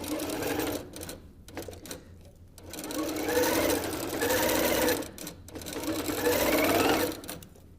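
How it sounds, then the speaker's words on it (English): Sewing machine stitching a diagonal seam across pinned fabric for a picnic bag, running in several steady bursts with short pauses between them, close and fairly loud. "Now we are gonna sew a diagonal line down this guy."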